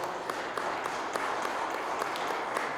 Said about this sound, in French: Et je vous demande, messieurs les enfants, d'applaudir toutes les mères,